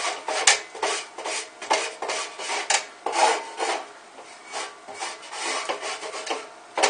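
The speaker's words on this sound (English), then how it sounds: "Scrape up the browned bits of stuff that are on the bottom of the pan from the sausage." Repeated rasping scrapes of a utensil working browned sausage bits off the bottom of a pan into a roux, an uneven back-and-forth rhythm of close strokes with no talk.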